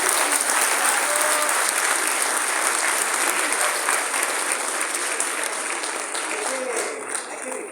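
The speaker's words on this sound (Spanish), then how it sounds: "Sí, yo sí les quiero un aplauso." An auditorium audience at a Mexican university forum applauds in a dense, loud, continuous burst that fades slightly toward the end, with no speech over it.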